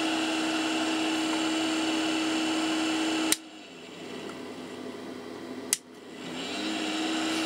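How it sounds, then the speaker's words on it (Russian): A loud, steady mechanical whir with a constant hum tone from a freshly oiled cooling fan of a 200-watt grid-tie inverter, cut by two sharp clicks after which the drone drops lower and gradually builds back up. "Вентилятор я смазал, он еще прирабатывается"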